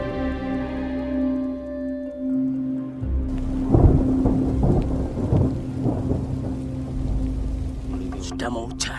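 Thunder rolls through a village as rain begins, with a low steady tone underneath, a loud crack and rumble near the middle, and rain hissing throughout.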